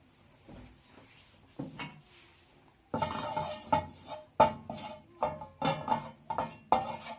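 Metal pan and utensils clink and clatter on a kitchen stove as oil goes in for an egg omelette with Chinese sausage, a run of close, sharp knocks and scrapes that starts sparse and grows into a steady, busy rhythm.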